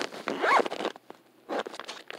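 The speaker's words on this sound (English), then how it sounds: "I'm gonna zip it back up, oopsies." A zipper is drawn shut on a storage bag in a reborn doll nursery, close and clear, with one long zipping pull followed by a shorter second pull after a brief pause.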